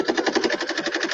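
A sewing machine sews a satin stitch, its needle hammering in a fast, steady rhythmic chatter that runs close and continuous.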